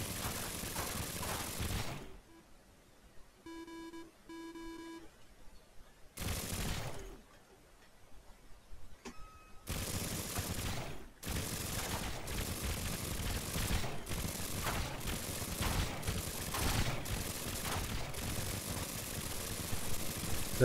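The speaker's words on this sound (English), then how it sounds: "But still, that's a lot of cannons." Cannons fire in the vehicle-building game Trailmakers: loud, dense broadband volleys of rapid blasts, broken by two short quieter gaps with steady electronic tones, then a long continuous barrage.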